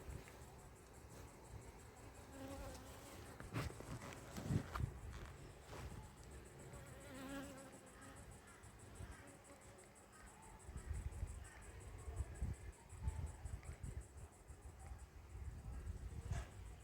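Honey bees buzzing around a Flow Hive during a honey harvest, a steady droning hum that persists throughout, mixed with faint handling noises and occasional knocks.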